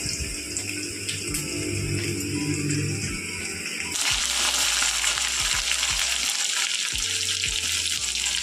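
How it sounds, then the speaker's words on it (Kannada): Beans, carrot and capsicum frying in a pan for vermicelli upma while being stirred, a steady sizzle with scraping strokes that grows louder and brighter halfway through, close and without talk. "ಇದು ಬೀನ್ಸು, ಕ್ಯಾರೆಟು, ದೊಣ್ಣೆಮೆಣಸಿನ್ಕಾಯಿ ಹಾಕ್ತಾಯಿದ್ದೀನಿ"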